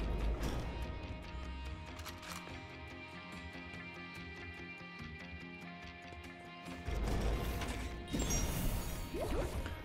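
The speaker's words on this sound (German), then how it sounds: "Gefäße, die explodieren jetzt." Clay vessels shattering and bursting in the video game Immortal Redneck, loud crashing smashes over a busy game soundtrack, with a heavier burst of breaking near the end.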